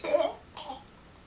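A person coughs while acting poisoned, giving two rough, throaty coughs close to the microphone, the first harder and longer, then a quiet pause.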